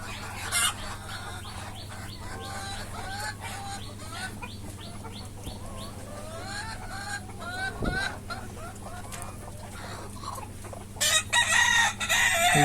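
Desi chickens on a farm cluck in quick repeated bursts, with a rooster crowing clearly partway through over a steady low background hum; no talking.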